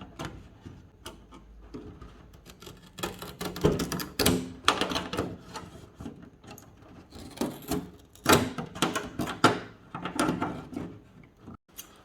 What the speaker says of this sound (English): I will use the big pair of scissors to cut in a general line